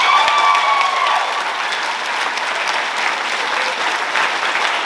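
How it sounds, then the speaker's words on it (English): A graduation audience in 2025 at CASA applauds its teachers, administrators and staff: dense, steady clapping from a large crowd that holds at an even level for the full five seconds. "Can everyone clap for our teachers, administrators, and staff?"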